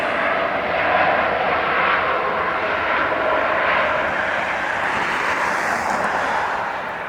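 A heavy jet airliner climbs out on takeoff at LAX, its broad engine roar steady and loud throughout with no voices.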